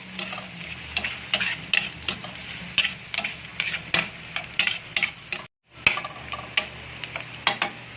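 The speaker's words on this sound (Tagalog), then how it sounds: "Tuloy-tuloy lang halo guys." Garlic and spices for beef papaitan frying in a pan, a steady sizzle broken by repeated scraping stirs at an uneven rhythm, close and moderately loud, with one brief dropout near the end.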